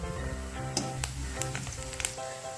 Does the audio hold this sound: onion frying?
yes